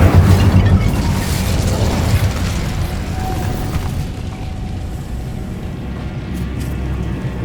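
Incendio fire spell blast in Hogwarts Legacy during a boss fight, a loud roaring, rumbling burst that stays dense and heavy for several seconds before easing slightly.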